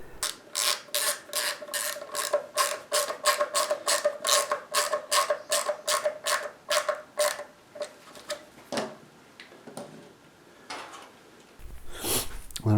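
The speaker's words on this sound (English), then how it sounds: "Put one screw in" A screw is driven by hand into a Telecaster guitar control plate with a steady run of sharp ratcheting clicks, close and evenly paced, followed by a pause and a brief handling noise.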